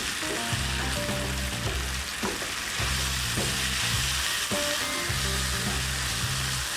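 Chicken biryani mixture with biryani powder fries in a pan while being mixed, a continuous dense sizzle with periodic stirring scrapes, and soft music playing underneath.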